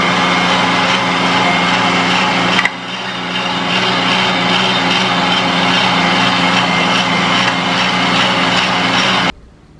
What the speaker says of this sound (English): putting the meat through the grinder and then mix it with the greens and vegetables